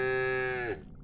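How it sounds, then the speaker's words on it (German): A cow in the golf video game What the Golf gives a single close, clear moo with a steady tone that bends downward and stops abruptly after about three quarters of a second. "Na, du kleine Kuh"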